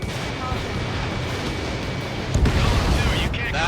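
A radar vehicle blows up in Ace Combat 7, a sudden heavy boom rising over continuous jet and combat rumble partway through the clip.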